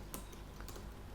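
Quick keystrokes on a computer keyboard as an email address is typed, a few crisp clicks close by over a steady low background.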